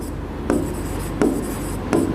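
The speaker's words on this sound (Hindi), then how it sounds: "मैं यहां लिखता हूं, लॉज एंड प्रिंसिपल" Chalk or marker scrapes across a board during a physics class lecture in three short, distinct strokes about 0.7 seconds apart, close and clear against a quiet room hum.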